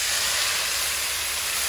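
Mustard seeds, chili powder, coriander and turmeric powders and curry leaves go into hot oil for a Kerala country chicken roast, making a loud, steady, close hiss with no speech.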